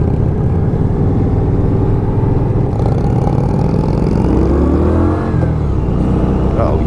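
Steady engine drone of an Indian Scout Sixty motorcycle while riding, loud and continuous with a slight rise in revs, with wind noise and a rider talking over it.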